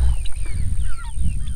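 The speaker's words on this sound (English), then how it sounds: "We got a big batch of turkeys" A big batch of turkeys calls on a farm, loud, close and crowded, with overlapping high squawks and gobbles over a low rumble.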